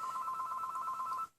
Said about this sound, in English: That was my phone, my landline telephone